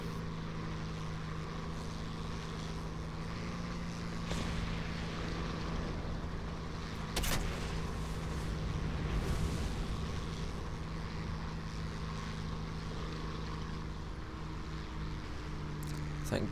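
A Catalina seaplane's propeller engines drone steadily in the War Thunder video game, a low continuous hum with faint gunfire-like thumps, fairly quiet and with no talking.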